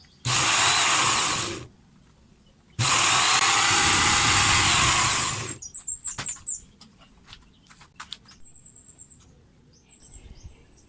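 A repaired pressure washer motor runs in two loud, steady bursts, about one and a half and three seconds long, each cutting off abruptly, followed by quieter clicks and light chirps.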